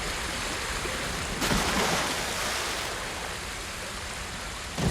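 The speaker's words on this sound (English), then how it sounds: "Investigate the waterfall." Waterfall in the video game Ghost of Tsushima, a steady broadband rush of falling water that holds at a constant level throughout, swelling slightly partway in, with no talk over it.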